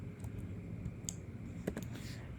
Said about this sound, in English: you can type in Roblox download